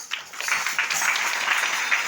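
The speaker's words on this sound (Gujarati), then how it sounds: "આપણે દશરથભાઈને તાળીઓથી વધાવી લઈએ" An audience at a religious gathering applauds to welcome Dasharathbhai, a steady patter of many hands clapping that swells slightly and holds at an even, moderate level.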